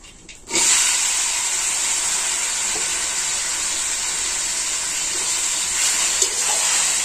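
Elephant apple pieces hit hot oil seasoned with bay leaf, five-spice and dried chillies, setting off a sudden loud hiss that settles into a continuous close sizzle, with a few faint clinks over it.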